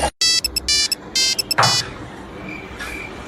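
An incoming call rings on a phone as a loud electronic ringtone in repeated short melodic bursts, followed by a fainter tone and background noise.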